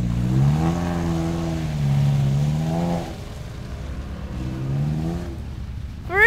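A Toyota truck engine idling and rolling with no driver, a low droning hum with rising and falling pitch as it moves, fairly close, ending in a brief sharper rev.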